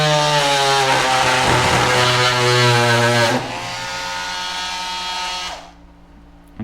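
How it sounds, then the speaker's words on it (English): A Craftsman CMCE500 oscillating multi-tool runs at speed 2 and plunge cuts into scrap wood, a loud, buzzing, high-pitched whine that roughens as the blade bites. The whine eases off and then winds down to near silence at the end. "So we're just going to turn it on and then make a little plunge cut, and we'll show you what it looks like."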